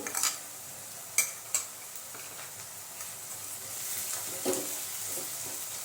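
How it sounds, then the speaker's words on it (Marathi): Finely chopped tomato is sautéed in a pan for a dhaba-style butter paneer bhurji, with a soft, steady sizzle beneath a few crisp spatula scrapes and clicks, quiet and close, without speech. "आपण आता 1 टोमॅटो मोठा बारीक चिरून घेतलेला आहे, तोही त्यामध्ये परतून घेऊ।"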